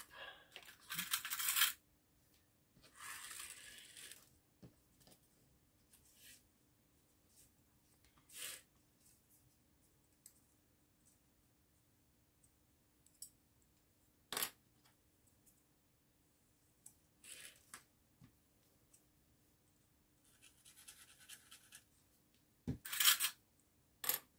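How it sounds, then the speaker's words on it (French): Small clips are handled and fastened onto a paper album, giving scattered quiet clicks, snaps and paper rustles with long near-silent gaps between them. "Je vais mettre des pinces parce que ça m'embête un peu que ça ne colle pas"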